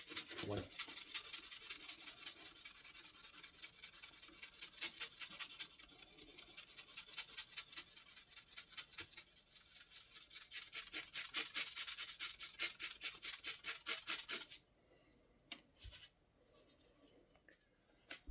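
Knife blades are worked by hand with 1000 grit sandpaper, a close, steady back-and-forth rasp repeating in quick strokes for about fifteen seconds before it stops, leaving a few faint handling noises.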